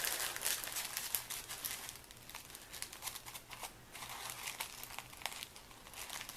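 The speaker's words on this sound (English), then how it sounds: "I'm just going to put my lollipop right in the center and just fold that down" Stacked coffee filters crinkle and rustle as they are folded down around a lollipop, a steady close papery crumpling that continues without pause and without talk.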